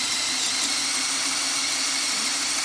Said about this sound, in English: I took the first gear, and now very strong to hold the machine.